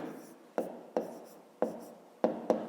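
Pen strokes on paper, six sharp scratchy taps spaced irregularly as numbers are written down for a fifth-grade arithmetic exercise, close and fairly quiet with no talk.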